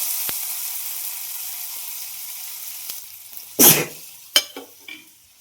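Tomatoes fry in a pan over a village hearth, a faint hiss that fades before a loud burst of sizzle and a couple of brief sharp crackles near the end.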